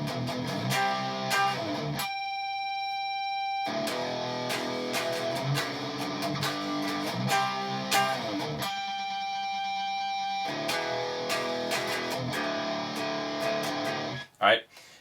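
An electric guitar slowly plays the breakdown of a song, with distinct picked notes and chords separated by brief pauses and a few sustained ringing tones, close and clear.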